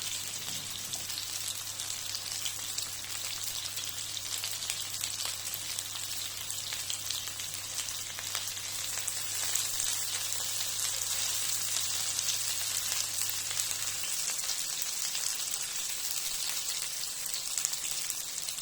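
Fish frying in a pan over a very low flame, with a steady, even sizzle throughout and a faint low hum underneath.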